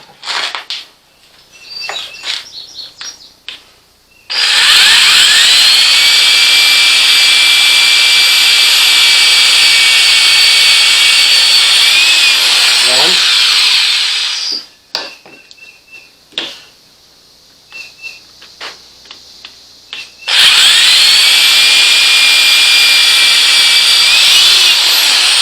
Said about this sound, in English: I may have to cut this 2 or 3 times. Get 2 holes drilled in it.